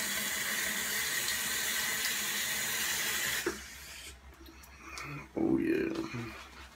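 Tap water running into a sink while a man wets his face for shaving, a steady hiss that cuts off midway, followed by brief splashes and someone talking.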